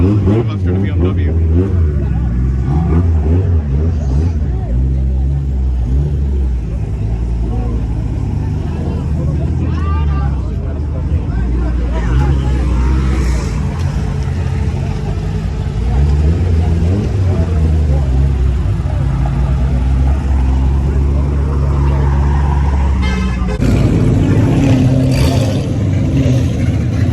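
Cars leave a car meet with loud, close engine roar and revving that rises and falls across the stretch, with one surging acceleration near the end, amid crowd noise and talk.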